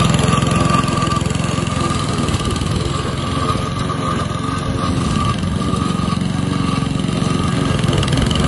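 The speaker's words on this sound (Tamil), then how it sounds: "இந்த மாதிரி மோவர், ரைடான் மோவர் தான் வந்து அதுக்கு நல்லா கரெக்டானதாக இருக்கும்" A ride-on lawn mower engine runs steadily nearby, a loud, even low-pitched drone with a throbbing rumble and no change in pace throughout.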